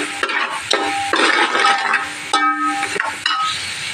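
Spice base of cumin and coriander powder frying in oil for pakoda kadhi curry, with a spoon stirring and scraping the pan in repeated bursts over a steady close sizzle.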